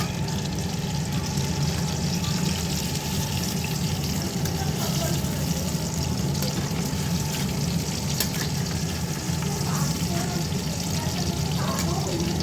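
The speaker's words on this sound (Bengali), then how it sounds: "মাংসটা ভালো করে ধুয়ে নিচ্ছি।" Running water splashes steadily as raw meat is washed by hand, a continuous faint rushing with small clatters and splashes throughout.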